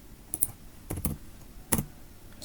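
Keys on a computer keyboard tapped to enter a short command, a few sparse, distinct clicks in small clusters, close and crisp against a quiet room.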